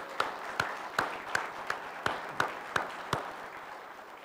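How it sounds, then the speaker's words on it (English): At a county board meeting, a single person claps sharply about nine times in a slow, even rhythm, each clap distinct against a quiet room. "let's give them one more round of applause."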